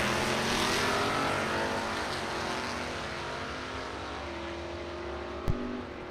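A Volkswagen and a 1956 Chevy drag racing down a quarter-mile strip, loud sustained engine roar with broad rushing noise that slowly fades, a short sharp pop near the end.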